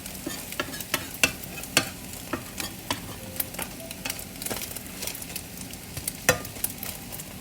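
Eggs frying in a pan for spicy tuna fried rice, a steady soft sizzle broken by scattered sharp clicks and taps of a utensil stirring against the pan.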